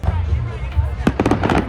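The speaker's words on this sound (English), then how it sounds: "The fireworks were perfectly in sync with music, which amazed spectators." Fireworks bursting over Lake Michigan at Navy Pier in Chicago, heard as a few sharp booms and crackling pops following a low rumbling crowd murmur, moderately loud and at a distance.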